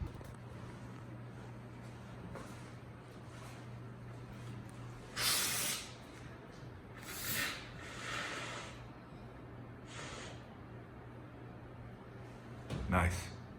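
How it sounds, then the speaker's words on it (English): Expanding spray foam hisses from a can in several short bursts while being sprayed into a wall gap during a garage security camera install, over a steady low hum. "Spraying that foam in"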